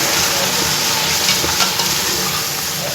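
Mixed vegetables fry loudly in a pan as dry curry spice is stirred in, a dense continuous sizzle with soft scraping stir sounds.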